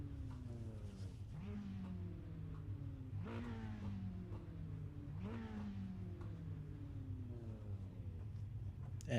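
Mini stock race car engines in the iRacing game at Nashville Fairgrounds: a steady engine drone with three clear revving rises that climb and drop back in pitch, moderately loud, with no talk over it.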